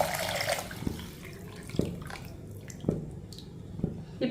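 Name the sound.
pouring beetroot and carrot juice into the pot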